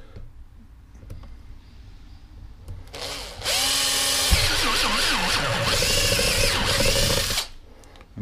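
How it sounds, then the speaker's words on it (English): A power drill with a step bit bores 18 mm holes, a loud whirring grind lasting about four seconds with shifting pitch as the bit steps up, preceded by quiet handling noises. "easiest way I found of doing these holes is using one of these step bits"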